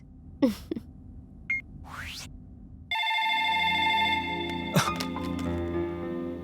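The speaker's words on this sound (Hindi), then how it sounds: "Phone is ringing." A telephone in a Hindi film scene starts ringing partway through with a steady, loud electronic ringtone after a few brief whooshing effects.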